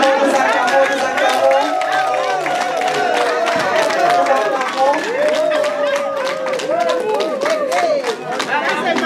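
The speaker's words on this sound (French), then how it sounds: "Nous acclamons." An audience at a party investiture ceremony in Nanterre claps and cheers, with dense, continuous applause and crowd chatter running throughout while a voice carries over it.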